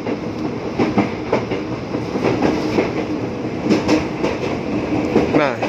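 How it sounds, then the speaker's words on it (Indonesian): A train rolling on the rails near Tanah Abang station in Jakarta, a steady loud rumble with wheel clatter running throughout, close by, with faint voices underneath. "Nah, ini ada kereta apinya lagi berhenti."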